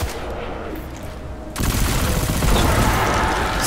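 Sustained automatic gunfire bursts out loud and dense after a quieter lead-in, a continuous volley of shots in the Destiny 2 shooter game's Springflut mission.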